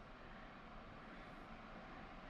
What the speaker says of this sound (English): engine should be starting now